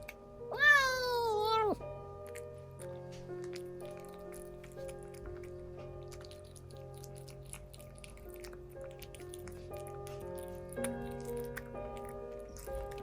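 A small kitten in a city apartment gives one short, high, close mewing cry as it begins eating, followed by a long quiet stretch of faint eating noises against a low indoor hum.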